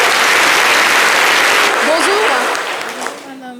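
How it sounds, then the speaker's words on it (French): A TV studio audience claps loudly and densely for a guest on a live midday broadcast, the applause thinning toward the end as a voice begins to speak over it. "Courageuse, on l'applaudit bien fort"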